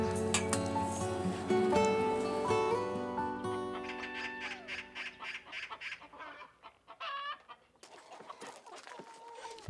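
Chickens kept at a lakeside fisherman's home cluck and call loudly and close by, with several overlapping birds and a tonal, drawn-out call at the start, then choppier clucks, without talk.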